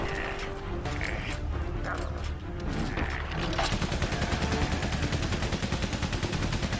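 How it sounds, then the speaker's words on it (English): In the Great War video game Valiant Hearts, scattered gunfire and mechanical clatter are followed by a machine gun opening up midway in a loud, dense, continuous stream of rapid shots. "Takes him some time to start up the machine gun again."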